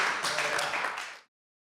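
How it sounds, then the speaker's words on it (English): A short burst of hand clapping from a small group on a porch, a dense, bright patter lasting about a second before cutting off abruptly. "Round of applause for Guy explaining the economy, breaking it"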